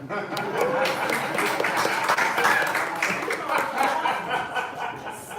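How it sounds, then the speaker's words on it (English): Audience applauding at a talk on coffee and blood types, a dense, continuous patter of many hands with a few chuckles mixed in, steady and moderately loud. "Give him a hand clap."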